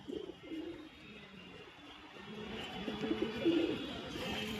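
A large racing pigeon coos near a loft, several low rolling coos in a soft, irregular rhythm against quiet outdoor background, with no talk.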